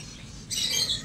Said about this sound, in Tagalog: so ito kalapati natin, kinulong ko na.